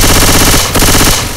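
Rapid automatic gunfire from Left 4 Dead 2 co-op gameplay, loud, close bursts of shots in a fast, continuous rhythm with a brief pause midway.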